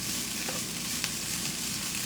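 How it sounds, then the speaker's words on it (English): Broccoli frying on high heat in a pan for beef and broccoli, giving a steady, close, continuous sizzle with faint stirring clicks and no talking. "So we're just letting the broccoli cook."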